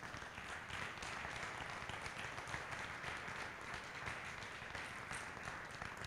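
Broadband clapping from an audience at a closing event of a women's financial education program, steady and continuous for about six seconds, fairly quiet and distant.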